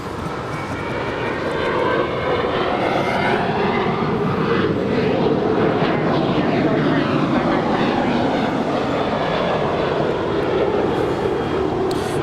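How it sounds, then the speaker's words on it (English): A United Airlines Boeing 737-800 departs LAX at night, its jet engines a loud, continuous roar with slowly sweeping tones that builds and holds throughout, with no talking. "That is United Airlines Flight 1956 departing to Las Vegas. It's a Boeing 737-800."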